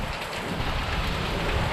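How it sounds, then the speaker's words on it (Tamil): Heavy rain pours down steadily in strong wind, a dense, loud hiss of drops that stays constant throughout with no voices. "இப்படி ஒரு கனமழை, அது இல்லாமல் காற்று, ஹெவி விண்டை வந்து இப்போ தான் முதல் டைம் பார்க்குறேன்"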